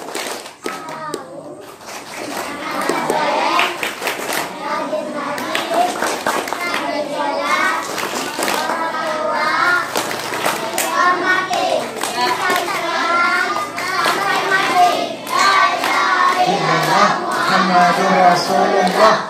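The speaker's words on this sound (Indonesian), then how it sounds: "Tepuk anak soleh." Children at an Islamic pesantren chanting the Tepuk Anak Soleh clapping chant in unison, loud rhythmic group voices mixed with patterned hand claps, energetic and close, continuing throughout.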